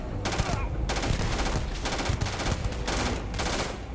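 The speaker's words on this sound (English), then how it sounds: "I think I want to shoot the boost pack so they like explode." Rapid, loud automatic gunfire rattles in the Starfield video game, with several sustained bursts separated by short gaps and faint speech underneath.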